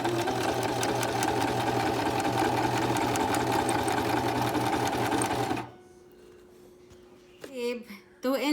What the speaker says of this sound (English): So backstitch over the elastic band again.